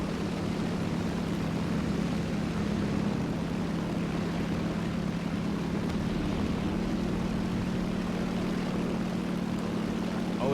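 Steady propeller drone of enemy aircraft in an air-to-air battle video game, a continuous low hum held at even loudness throughout with no voices.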